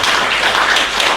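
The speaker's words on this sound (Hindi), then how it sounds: "आइए ताली बजाकर परमेश्वर को धन्यवाद दें।" A church congregation in Nagpur claps together during a preaching service, with a dense, even wash of many hands that holds steady and fairly loud through the whole moment, with no voices on top.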